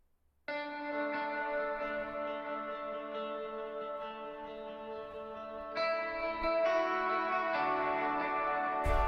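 A rhythmic guitar track treated with Pro Q equalisation, a sustained strummed harmonic texture that swells slightly louder and brighter toward the end, heard without voices.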